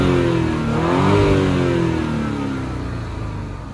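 A Porsche Cayenne Coupe engine revs up and then settles back down, heard close as a single smooth rise in pitch and loudness that eases off gradually, with no talking.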